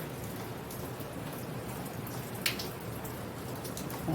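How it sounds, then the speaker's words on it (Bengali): Rain falls steadily outdoors, a soft, even patter with a few nearby drips standing out, fairly quiet and without any voices. "বৃষ্টি পড়ছে এই দেখো"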